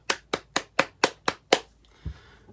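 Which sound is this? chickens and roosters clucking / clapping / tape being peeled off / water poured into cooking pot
clapping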